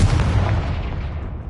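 A Confringo fire spell from the Hogwarts Legacy video game bursts in a loud, deep explosive boom that rumbles and fades over about a second and a half, with no talking.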